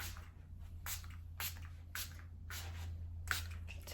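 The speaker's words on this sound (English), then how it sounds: "I'm gonna just spray it a little." Trigger spray bottle misting water in a room, a series of about six short hissing pumps at roughly half-second intervals, close and fairly soft over a steady low electrical hum.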